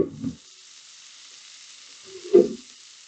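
Meatballs frying uncovered in an open pan, with a steady soft sizzle and two louder bursts of spitting fat, one at the start and one near the end, close and without talk.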